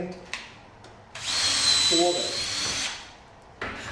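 A Festool drill fitted with a CENTROTEC chuck whirs up close for about a second and a half, a steady high buzzing run that starts and stops abruptly, with a brief mechanical rattle in the middle and a short burst of noise after it.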